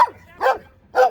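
A big female dog barks three times, close and loud, each bark short and gruff with brief pauses between.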